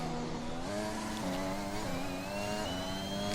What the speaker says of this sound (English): you can hear these cars definitely sound different to last year